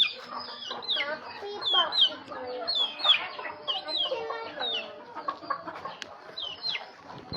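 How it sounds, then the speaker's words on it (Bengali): A flock of chickens clucks and squawks in short, scattered bursts while being fed paddy outdoors, some calls close and sharp, others softer, over a quiet background. "আর এই যে মুরগিদের যে খাবার দিচ্ছে আর কি ধান"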